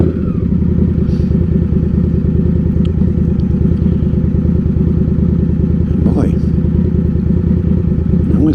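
Indian Scout Bobber motorcycle engine running on a Florida ride after a week sitting in the cold, a loud, steady, close rumble with an even throb that never lets up.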